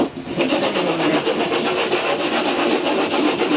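Sandpaper of roughly 60 to 80 grit scouring a parchment surface in a workshop, a steady close rasping scrub with rhythmic back-and-forth strokes that continues without a break.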